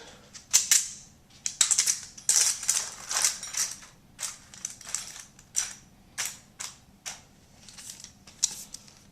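A magnet sweeps up scattered metal M60 ammunition links from the ground, producing a run of sharp, bright metallic clinks and rattles in irregular bursts, close and fairly loud, with no speech.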